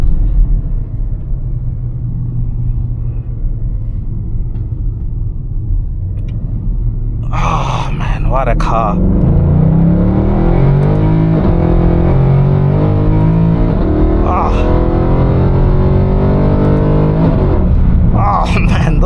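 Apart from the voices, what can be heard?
Mercedes-Benz C63 AMG W204 V8 engine accelerating with brutal gear shifts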